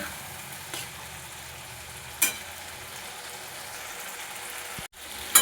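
Spice paste sautéing for mutton curry makes a soft, steady frying hiss, with a couple of brief stirring scrapes and a short pause near the end.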